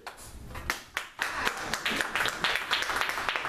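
Applause from a small audience builds from a few scattered claps into a steady round of clapping, close and moderately loud, continuing to the end.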